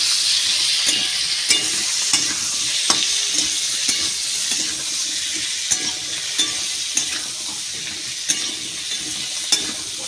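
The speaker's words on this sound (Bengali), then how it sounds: "একসাথে ভালো করে ভাজা করে নেব।" Chopped onion and tomato frying together with pointed gourd and fish in a pan, a steady close hiss with soft periodic scrapes and taps of stirring, no voices.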